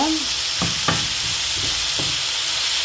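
Onions sauté in a pan with salt and turmeric for tomato rice, a steady close sizzle under a few scraping stirs of a spoon, with no talking.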